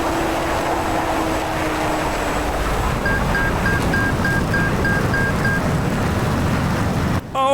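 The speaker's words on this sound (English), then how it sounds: "just enjoy the beautiful sounds of the F-18 Hornet" F-18 Hornet jet engine in the game DCS World, a loud, continuous broadband roar with a steady tonal whine, heard from outside the aircraft and cut briefly by a sharp transient near the end.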